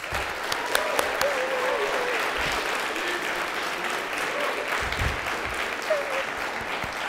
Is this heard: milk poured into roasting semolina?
no